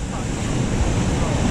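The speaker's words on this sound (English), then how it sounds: "The waves are crashing on the shore." Ocean surf washing onto a beach at Llangrannog at sunset, a steady loud rumbling wash filling the whole moment with wind buffeting the microphone, no speech.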